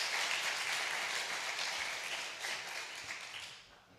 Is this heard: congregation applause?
yes